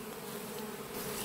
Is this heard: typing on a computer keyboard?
no